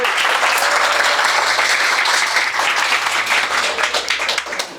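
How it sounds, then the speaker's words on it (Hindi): Loud, dense applause from an audience at a coaching classes' annual function, honouring the guest, a sustained roar of many hands clapping that thins slightly toward the end. "एक बार सर के लिए जोरदार ताली चाहिए।"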